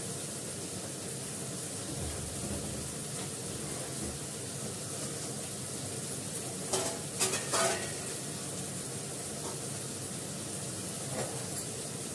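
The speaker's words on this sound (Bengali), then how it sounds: "সুন্দর করে আলু ভাজা করবো।" Potatoes fry in oil in a pan with a steady, soft sizzle throughout, broken by a few brief scraping stirs midway, close by, with no talk.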